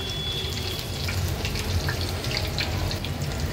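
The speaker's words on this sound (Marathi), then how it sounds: "आता ह्याला पलटून घेऊया आणि आता व्यवस्थित उलटपालट करून आपल्याला ह्याला फ्राय करून घ्यायचे आहे" Bhaji fry in hot oil on a gas stove with a dense, steady sizzle and bubbling throughout. A few faint scraping clicks come as the pieces are turned over, and no one speaks.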